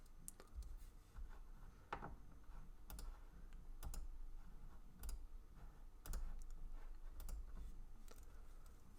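Steady typing on a computer keyboard, close and fairly quiet, with irregular clusters of key clicks and a few sharper taps, no voices.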